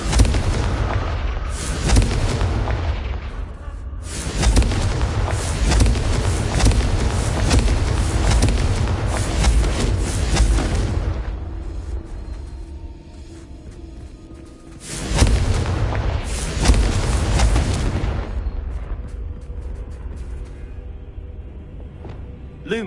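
Confringo blasting spell explosions from the Hogwarts Legacy video game: loud, repeated booming blasts that roll almost continuously, with a brief lull before another burst of heavy impacts.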